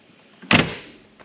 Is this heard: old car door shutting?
yes